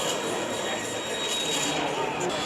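A subway car rushes past in The Darkness 2, a loud continuous rumbling roar with a faint metallic whine, steady throughout.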